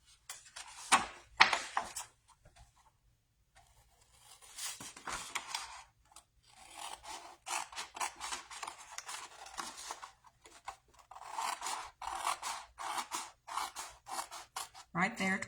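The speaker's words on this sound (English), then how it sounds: "And I'm just going to cut on the score line" Paper snips cut through scrapbook paper along a score line, bursts of crisp snipping and slicing strokes in quick succession with short pauses, close up, while someone talks between the cuts.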